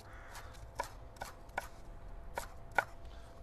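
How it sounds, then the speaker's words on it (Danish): A knife chops thinly julienned vegetables on a board, about six crisp, separate knocks spaced unevenly over a few seconds, close and clear against a quiet room. "Så kan vi lige hakke dem over en gang"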